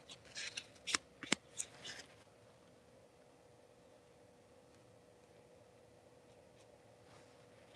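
A paint scraper rasps across a mixed media collage in a handful of quick, close scraping strokes within the first two seconds, followed by a long near-silent stretch.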